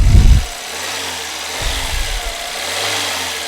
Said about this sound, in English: So now let's press the gas,